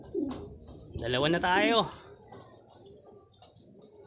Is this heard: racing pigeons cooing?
yes